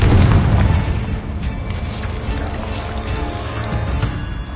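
A Confringo fire spell bursts in Hogwarts Legacy with a loud booming blast up front that decays into a lingering crackling rumble.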